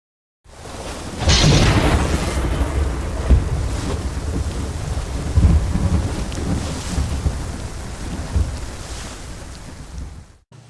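Thunder rumbles over steady rain outside a small cabin, a deep roll breaking in early and lingering, with heavy, continuous downpour throughout and a few low swells before it cuts off.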